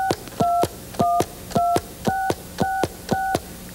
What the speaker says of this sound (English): Now would you dial a special telephone number for me?